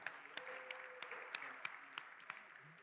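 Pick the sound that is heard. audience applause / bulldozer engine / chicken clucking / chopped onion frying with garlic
audience applause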